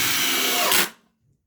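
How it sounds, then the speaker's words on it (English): A cordless drill in screw mode driving a screw during a Makita versus Ryobi comparison, a loud steady motor whir that rises briefly in pitch near the end, then cuts off abruptly into silence. "now we're gonna do the drill test. Yeah, the screw test for the screw mode"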